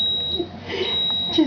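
Electronic beeping from a baby milk-making machine in a home kitchen, a thin high steady tone that sounds, drops out, then returns near the end, with faint room noise and soft household sounds around it.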